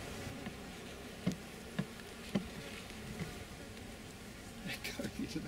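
Honeybees buzz in a steady, dense drone around a cathedral hive entrance crowded with foragers bringing in pollen, with a few louder close fly-bys standing out over the swarm.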